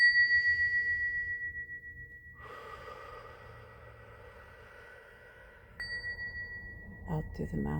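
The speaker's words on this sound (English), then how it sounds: "I'm going to ring some bells" Bells rung during a guided breathing meditation: a clear, sustained ringing tone hangs and slowly fades, then is struck again near the end, with soft breathing sounds underneath.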